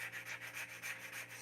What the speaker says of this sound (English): sanding this wood and trying to be philosophical